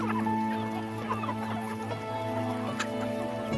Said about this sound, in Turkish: bu civcivlerin birçoğu kuluçka makinesinden çıktı